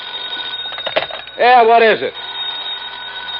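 An old-time radio drama telephone bell rings in a steady trill for about half a second, loud and close, with a voice speaking just before it.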